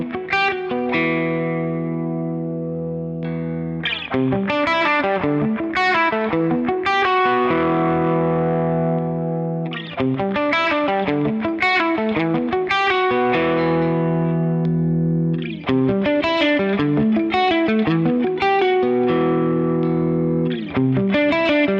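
Overdriven electric guitar, a Valenti Nebula, plays loud, sustained chords and riffs with a thick, distorted tone, ringing out and changing every couple of seconds.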